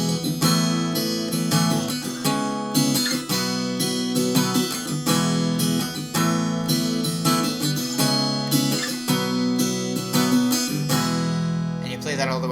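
Acoustic guitar strums the outro of a song on the chorus chords, left ringing open and unmuted, a full, steady down-up rhythm that plays loud and close with no voice.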